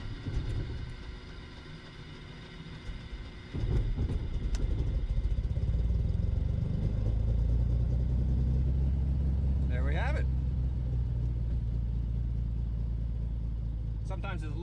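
A fuel-injected Continental aircraft engine cranks on the starter and catches after a few blades, then settles into a loud, steady rumbling idle, with a person talking over it.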